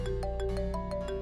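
A mobile phone rings with an incoming call in a domestic drama scene, a melodic electronic ringtone of repeating sustained notes over a pulsing beat, steady and fairly loud throughout.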